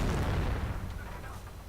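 Rumbling explosions in a video game battle as a house is blown apart, a dense, low booming roar that fades slightly over a couple of seconds.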